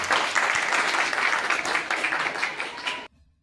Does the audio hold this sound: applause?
yes